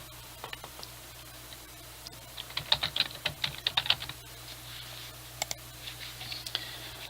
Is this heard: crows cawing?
no